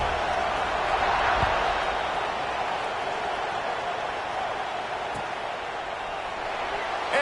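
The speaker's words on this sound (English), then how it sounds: "this crowd is buzzing after that last score" A college football crowd buzzing in the stadium after a score: a steady, broad roar of many voices held throughout, with a commentator talking over it and a couple of faint knocks.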